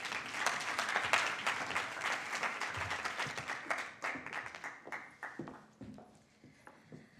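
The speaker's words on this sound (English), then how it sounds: "Let's give her another warm round of applause." Warm applause from an audience at a university gathering in Nairobi marking International Migrants Day, a dense wash of many hands clapping at once that starts loud and tapers away toward the end, with no voices over it.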